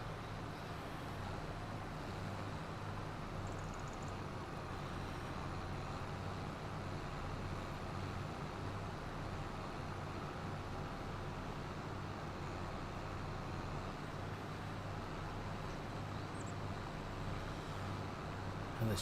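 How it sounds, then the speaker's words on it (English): In Farming Simulator 25, a tractor pulls a plough with a steady, low droning engine hum that runs continuously and evenly, with no speech over it. "this tractor's a lot more fun to play with than the Massey"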